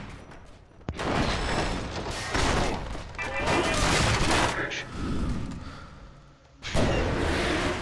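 Gunfire in the action game Stranglehold, a bursty firefight with loud shots, crashes and thuds rising and falling, then a brief quiet gap before another loud burst.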